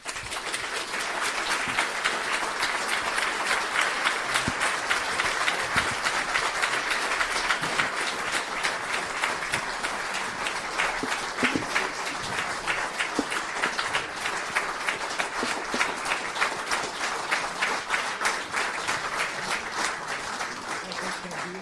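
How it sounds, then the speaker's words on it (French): Sustained audience applause at the close of a conference talk by a French journalist, a dense steady patter of many hands lasting throughout at even volume, with a voice faintly audible beneath it. "Je crois vraiment qu'on peut applaudir Bernard Guetta."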